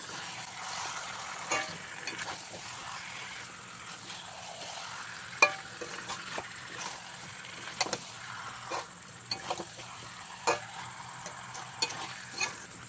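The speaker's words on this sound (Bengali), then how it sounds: "এবারে এর মধ্যে দিয়ে দেবো ম্যারিনেশন করে রাখা মাংসটা। দিয়ে এবারে খুব ভালো করে মিশিয়ে দেবো।" Marinated chicken pieces are stirred in a frying pan, with repeated spatula scrapes and knocks against the pan over a low, steady sizzle, close by and without speech.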